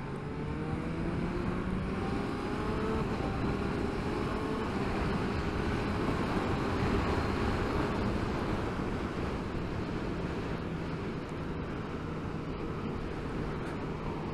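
A 2022 Honda CB1000R Black Edition motorcycle rides downhill in third gear, its engine drone buried under constant, heavy wind roar that stays loud and even throughout.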